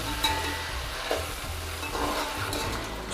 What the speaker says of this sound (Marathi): तळलेल्या भाज्या घाल घालून त्यांना मसाल्यामध्ये मस्त एकजीव करून घ्यायचं